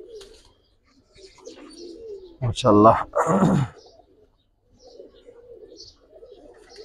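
A male and female pair of Giribaz pigeons gives soft, low, repeated cooing, faint and close, before and after someone speaks briefly in the middle.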